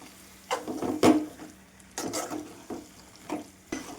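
Coriander being stirred into a brinjal tomato curry in a pan, with soft intermittent scraping strokes of a spoon over a low simmering sizzle, close and fairly quiet.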